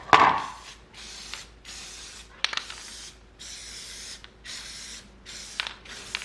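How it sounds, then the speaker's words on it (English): Adhesive spray hisses onto a carbon fiber sheet in several short bursts separated by brief pauses, close and fairly quiet, with a click at the start. "we're going to spray"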